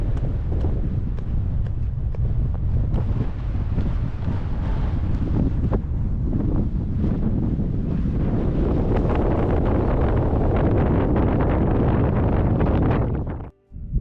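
Strong wind on a Scottish hill roars and buffets the microphone continuously for the full length, a loud broadband rush, cutting out abruptly near the end.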